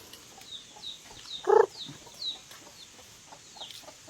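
Farmyard chickens at a rural farm give soft, scattered clucks at a short distance. One louder, brief cluck stands out midway against quiet background chirps.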